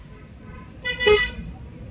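Horn of a Maruti Eeco van, one short toot sounding close by amid low road and traffic rumble.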